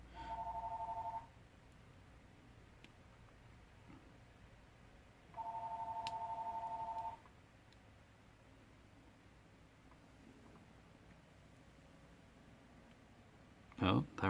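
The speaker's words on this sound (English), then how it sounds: "the phone just kept ringing" A telephone rings twice in the background, each a steady electronic tone of a second or two separated by a pause, faint against quiet room noise, with a brief clatter at the very end.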